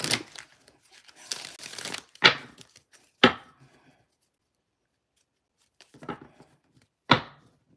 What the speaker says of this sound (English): Let's shuffle this real quick.